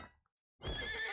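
A horse in a video game gives a loud, close whinny that swells up after a short silence and then holds, with the faint clip-clop of hooves under it as the rider sets off uphill.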